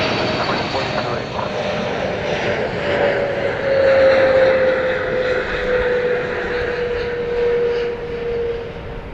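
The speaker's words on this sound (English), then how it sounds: "Touching down from London Heathrow, American Flight 81, 777-300ER." An American Airlines Boeing 777-300ER from London Heathrow touches down at DFW Airport in the evening, its wide-body jet engines giving a loud steady roar with a sustained whining tone, heard from a distance.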